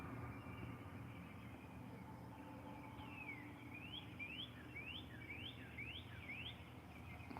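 A whistler bird sings a short series of rising, repeated whistled notes at moderate distance over a quiet low background hum, with no talking.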